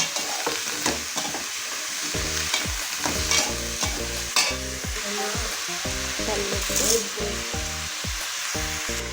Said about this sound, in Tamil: காய்கறி நல்லா பச்சை வாசம் போகிற வரைக்கும் வணக்கிட்டு அதுக்கப்புறம் மூடி வச்சுக்கலாங்க